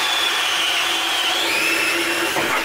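A DeWalt cordless drill spins an Irwin Speedbor wood bit through timber, giving a steady, continuous whine with a wavering tone, close and loud throughout with no voices.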